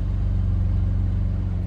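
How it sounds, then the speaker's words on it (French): Porsche Macan Turbo engine rumbling close and steady after starting, a deep throbbing idle that holds evenly without talk. "vous vous mettez dans votre voiture, vous l'allumez, vous entendez ça"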